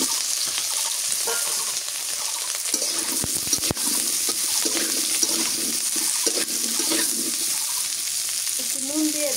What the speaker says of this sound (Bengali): আলুটা আগে একটু তেলের মধ্যে ভাজে নিই।